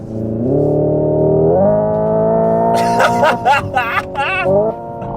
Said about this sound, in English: you can hear the bits of crackle. Obviously it's fake, it's coming through the speaker.